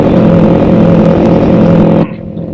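Old car engine accelerating in the Euro Truck Simulator 2 driving game, a loud steady droning hum that sustains for two seconds and then cuts off abruptly to near quiet.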